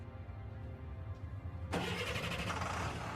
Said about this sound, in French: Le moteur a démarré.